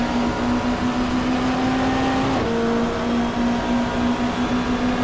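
Touring car engine in the GTR2 racing game at Symmons Plains, a 1995 Australian Super Touring race chasing a Volvo wagon, droning steadily at high revs with a brief gear shift midway, loud and continuous with no talk.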